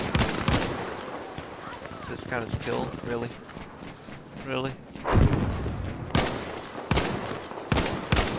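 Rapid gunfire cracks in Battlefield 5 come in bursts and single shots, loud and close, mixed with someone talking over the action.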